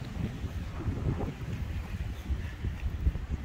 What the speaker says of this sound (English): Now today, of course, it is windy and there's a little chop out there